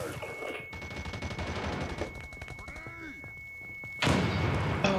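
Thuds and sharp bursts of gunfire crackle through a firefight in America's Army Proving Grounds, ending with a loud grenade blast near the four-second mark, with a steady tone running underneath.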